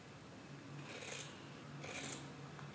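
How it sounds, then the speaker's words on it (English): Scissors cutting along a stitched seam of fabric for a waterproof Skjoldehamn-style Viking hood, two separate rasping snips close by, with a steady low hum underneath. "what I'm going to do is cut along the stitching I made"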